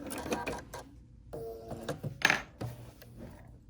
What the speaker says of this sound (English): I'm just going to over sew and then cut